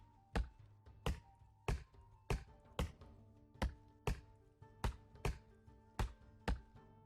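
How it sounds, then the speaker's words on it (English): An axe chopping a tree in the Roblox game Lumber Tycoon 2: about eleven crisp, evenly spaced wooden thunks at a steady rhythm, fairly quiet, with no talking. "I like chopping off just these end pieces first."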